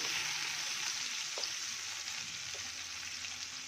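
Steady sizzling from a frying pan as tomato gravy is stirred into the dish, with a couple of soft scrapes.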